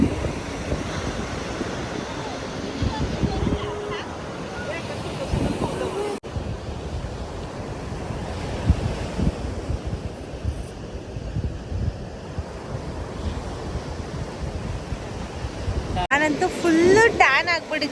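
Ocean waves at Kovalam Beach, a continuous rush of surf mixed with wind buffeting the microphone, with people talking close by over it.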